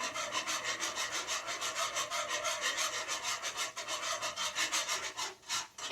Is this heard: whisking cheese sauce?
yes